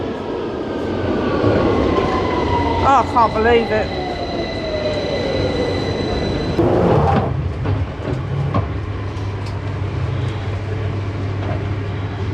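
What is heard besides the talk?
London Underground train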